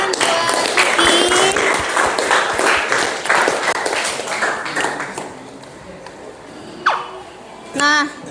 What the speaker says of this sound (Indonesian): Beri tepuk tangan buat Ricky.